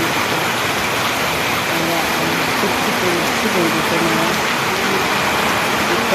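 Heavy rain pouring down at a home, a dense, loud, continuous wash of rushing noise with a voice talking faintly underneath.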